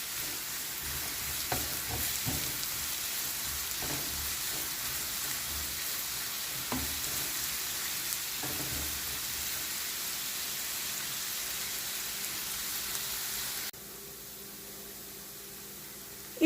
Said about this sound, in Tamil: இப்போ நம்ம வெங்காயம் நல்லாவே வதங்கிடுச்சு.